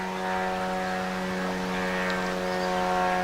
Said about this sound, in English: sounds like a drone flying around up there